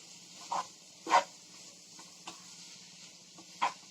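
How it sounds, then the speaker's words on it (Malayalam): Raw chicken pieces and onions stirred in a pan at home, giving a few soft, scattered scrapes and clicks, quiet and spaced apart with low background hiss. "എന്നിട്ട് നന്നായി ഇളക്കി യോജിപ്പിക്കുക"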